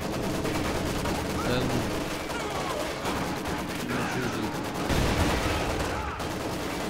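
Machine gun fire in the Company of Heroes 2 war game, bursts of rapid shots mixed with other battlefield gunfire and explosions, steady and dense throughout, with someone speaking briefly over it.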